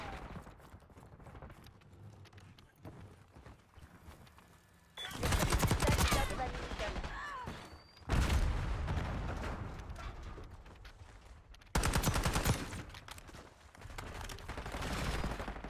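Video game shootout with dense bursts of rapid gunfire that erupt loudly in three long waves, separated by quieter stretches of scattered shots and low rumble.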